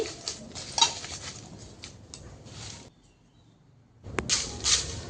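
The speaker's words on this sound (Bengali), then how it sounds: "এখন পেঁয়াজের খোসাটাকে নেড়েচেড়ে ভেজে নিব।" Dry onion peels scraped and stirred with a utensil in an empty pan over a stove, a run of scratchy rustling and light metallic clinks, pausing briefly before resuming with sharper scrapes.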